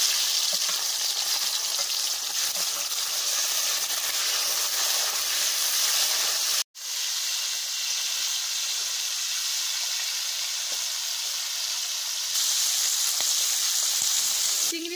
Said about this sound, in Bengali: চিংড়ি মাছগুলোকে ভালো করে ভেজে নিলাম।